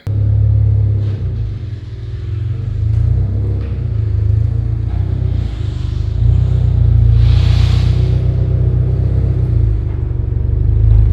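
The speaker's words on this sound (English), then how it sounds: "We're gonna get the BRZ pulled into the garage" A Subaru BRZ sports car pulling into a garage on a hot Arkansas day, a steady low engine rumble with a slight rise as it rolls in, close and loud, no talking.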